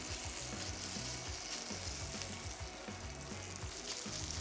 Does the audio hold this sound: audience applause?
no